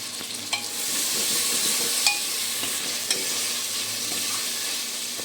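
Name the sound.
onions and tomatoes frying in a pan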